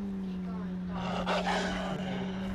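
Dogs growling and snarling in a video game, a rough low rumble rising in the middle under a steady droning hum, with no voices.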